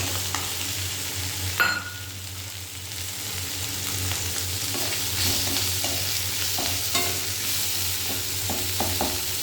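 Onions frying in oil with fish in a pan, a continuous close sizzle with a sharp clatter of utensil contact early on and repeated stirring scrapes throughout, no talk.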